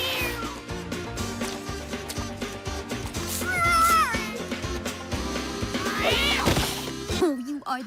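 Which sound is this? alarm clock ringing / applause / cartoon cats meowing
cartoon cats meowing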